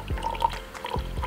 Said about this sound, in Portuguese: primeiro eu vou pôr o vinagre